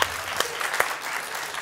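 An audience at a televised comedy game show breaks into brief applause, a dense burst of clapping with a few sharper claps standing out.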